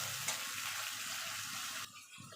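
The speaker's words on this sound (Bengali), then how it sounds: "এবার মিক্সির জারটা ধুয়ে জল দিয়ে দেবো" Tap water runs steadily into a rinsed mixer grinder jar in a home kitchen while a Bengali duck egg, potato and cauliflower curry is being cooked, the flow cutting off abruptly near the end.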